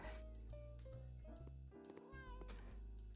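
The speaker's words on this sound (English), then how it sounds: "Now I hear the cats." Cats meow in the home-renovation video game House Flipper, a few drawn-out, wavering calls following one another, quiet and soft in the background.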